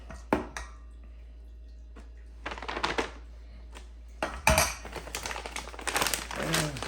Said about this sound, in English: Let's go ahead and spoon in some of our harissa.